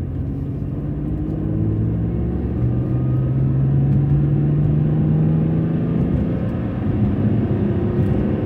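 A BMW E46 M3 with a Frank Smith SMG tune drives along with a steady, loud engine drone and low road rumble from inside the cabin, the engine note rising gently as it pulls.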